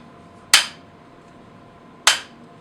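Two sharp metallic clicks about a second and a half apart, a double-hammer shotgun dry-firing on an empty chamber, each snapping on crisply and decaying quickly in a quiet room.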